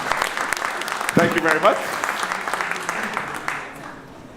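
Audience applause for a small group, a burst of clapping that rises then fades over a few seconds, with a voice speaking briefly over it.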